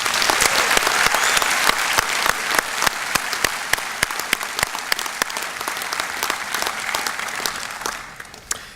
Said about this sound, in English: Please join me in giving a round of applause to our spouses and families